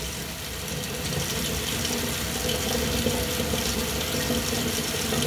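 A sink tap runs hot water in a house during a pre-settlement final inspection, giving a steady, close, broadband rushing splash that continues without a break and with no talking.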